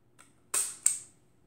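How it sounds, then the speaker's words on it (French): A Soviet Krasnogorsk Moskva 5 folding rangefinder camera having its shutter cocked and then released: two sharp, close mechanical clicks a third of a second apart, each trailing off quickly in a quiet room. "On arme et on déclenche."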